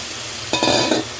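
Pre-fried potatoes and pointed gourd tip into hot cooked-down masala, bursting into a short, loud sizzle and stir after a quiet start, then fading within half a second.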